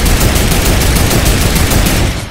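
Sustained automatic gunfire aimed at a turret in Fortnite rattles loud and continuous, a dense barrage of rapid shots that eases slightly just at the end.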